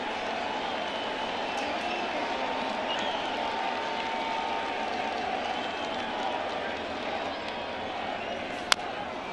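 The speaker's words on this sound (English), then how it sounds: "The crowd lifts and rises in voice" A baseball stadium crowd at a Red Sox versus Yankees game swells in a steady, dense roar of voices, broad and continuous, with a sharp crack near the end.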